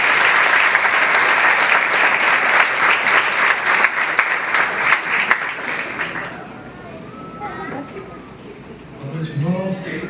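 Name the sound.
church congregation applause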